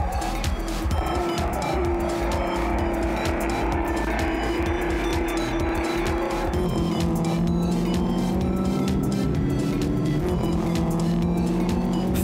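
Racing cars from a historic motor racing event, including those of Henny Krutewold and Franco Scribante, battle closely on a track, with loud continuous engine roar, rising and shifting tones as they pass, and occasional tyre squeal throughout.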